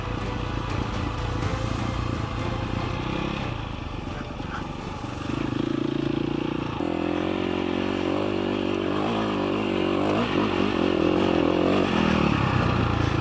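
A KTM 525 EXC enduro motorcycle ridden off-road in the Algarve roars close by, its engine revving and shifting pitch through gear changes in a continuous loud drone.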